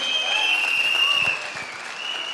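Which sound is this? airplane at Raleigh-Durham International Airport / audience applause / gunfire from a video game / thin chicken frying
audience applause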